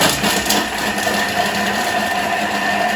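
A Thermomix whirs at speed 5, blitzing tarragon leaves in its bowl with a steady, close, fairly loud motor hum lasting throughout.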